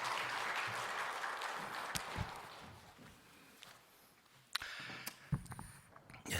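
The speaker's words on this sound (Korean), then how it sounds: "박수로 한번 맞이하십시다" Applause from a seminar audience at a church gathering welcoming a pastor to the stage, fairly loud at first and then fading away within a few seconds, followed by quiet room noise with scattered knocks and shuffles.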